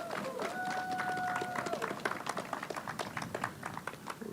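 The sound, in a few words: audience applause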